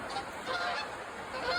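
Birds fly past, giving a run of honking, goose-like calls that rise and fall against a quiet airy backdrop, moderately distant and heard without speech.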